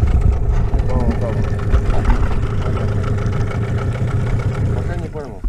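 Small outboard motor idling on a boat out on the Oka river, a steady low rumble running throughout, with people talking over it.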